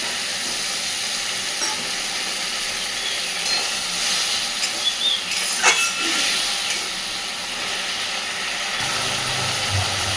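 Spiced pointed gourd in a pan sizzling and hissing steadily as a little water is added, a broad continuous steamy fizz with a few stirring clinks, close and alone.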